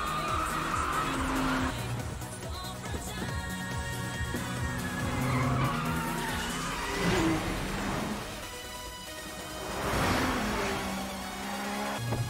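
In an Initial D Fourth Stage street race, a car comes out of a corner with its engine revving and pulling hard while the tires squeal and skid. The engine rises and falls over several surges, close and fairly loud.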